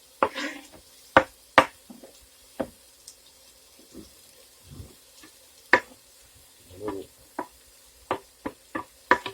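Chopped onions dropped into a hot pot for homemade beef stew, with scattered clanks and knocks of a utensil against the pot, a soft sizzle, then brief stirring, close and without talk.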